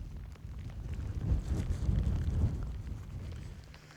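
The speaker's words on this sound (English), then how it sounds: "because it's so windy" Wind buffeting a microphone beside Llyn Bugeilyn, a lake in Wales, a low rumbling roar that swells in the middle and eases off toward the end.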